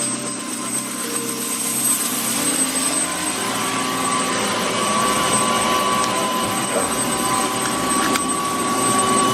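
A helicopter's engine and rotors run steadily over Essex, a loud, continuous whine and thrum heard from inside or nearby, with tonal turbine hums holding throughout and no talk.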